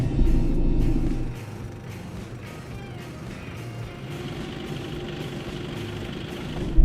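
An Isuzu MU-X 4x4 climbing an off-road slope, its engine a steady close rumble that eases after a louder opening surge while the vehicle labours uphill, with faint creaks from the body.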